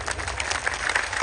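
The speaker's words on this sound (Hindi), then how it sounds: "जोरदार ताली बजा करके" Audience applause fills a religious discourse gathering, a steady, dense clapping from a crowd that holds at even loudness through its short span without any voices on top.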